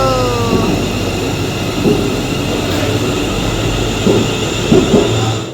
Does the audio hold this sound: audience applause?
no